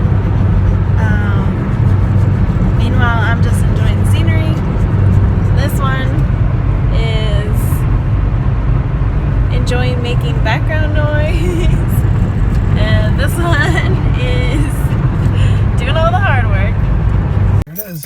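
Car driving on a road during a road trip in a minivan, a steady engine and road rumble under constant talking voices throughout.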